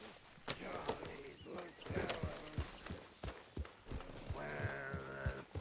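Horse hooves clip-clopping in the Red Dead Redemption 2 video game, a steady rhythm of sharp knocks running under talking voices and game sounds.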